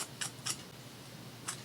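Paper being cut out by hand with scissors for a Christmas craft project, a few short crisp snips in quick succession, then a pause and one more snip, close and quiet.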